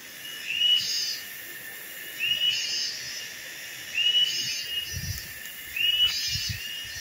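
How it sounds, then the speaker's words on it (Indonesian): Insects in a humid tropical forest beside a river chirp in repeated high shrill bursts about every one and a half to two seconds, with faint low thumps underneath and no one talking. "suara serangga yang kayak gini ya, yang bunyi kayak gini tuh berada di hutan-hutan yang iklimnya tropis"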